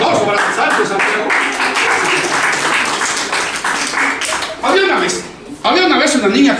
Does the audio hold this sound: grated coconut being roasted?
no